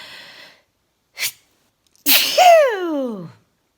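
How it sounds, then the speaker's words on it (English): A person sneezes once, a sharp burst of breath rising into a loud, tonal, falling sneeze sound, with a short breath or sniff before it and a quiet moment between, close and clear with no other sounds. "I've just started sneezing."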